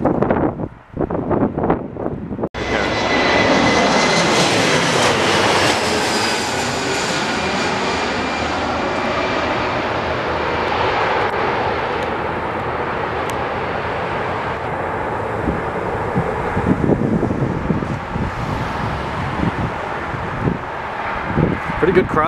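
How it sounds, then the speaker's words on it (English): An airplane making a crosswind landing, its engine droning loudly and steadily for about twenty seconds amid gusty wind buffeting the microphone, with people talking over it. "Pretty good crosswind landing."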